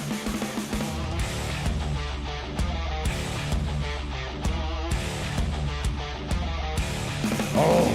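A distorted electric guitar riff played through an amp-sim tone, loud and chugging in a steady rhythm broken by short repeated stops, ending on a brighter ringing chord.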